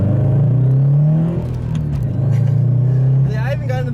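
Engine of a turbocharged Scion FR-S pulling hard mid-corner, a loud close rumble that steadies and swells into boost, with a voice talking over it near the end.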